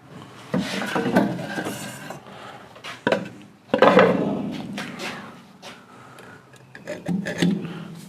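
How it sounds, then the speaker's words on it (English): Bursts of rasping hacksaw strokes cutting a broken pilot screw in a Keihin carburetor body, back-and-forth in short runs with pauses between, close and fairly loud. "Actually, I might just hacksaw that off."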